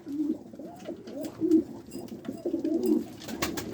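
Pigeons coo close by in a quiet setting, a few soft rolling calls repeating in a steady rhythm.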